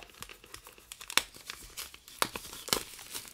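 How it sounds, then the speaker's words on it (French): Small scissors snip through plastic wrap on a boxed item, giving faint, close crinkling and a few sharp tearing crackles as the film is cut away. "je prends toujours des petits ciseaux pour vraiment, hop, ne pas abîmer la boîte et vraiment juste aller au plastique"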